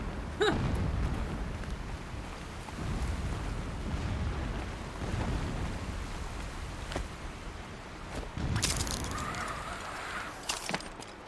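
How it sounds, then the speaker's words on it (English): Deep rumbling booms of distant explosions in the video game Horizon Zero Dawn roll in from far off, a muffled thud early on and a louder burst near the end, over a constant low background. "Explosions in the distance."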